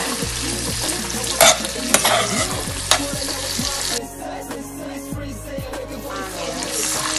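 Vegetables frying in oil for a prawn and vegetable casserole while being stirred, a close, steady sizzle and crackle with repeated scraping and clinking stirring strokes.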